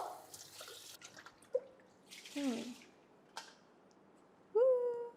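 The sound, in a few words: rinsing the Thermomix mixing bowl with water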